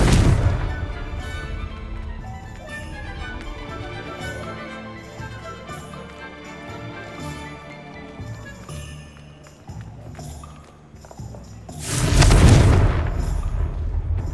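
A Confringo spell explosion in Hogwarts Legacy erupts as one loud, deep boom near the end, breaking through a steady bed of game music and fading into a rumbling tail.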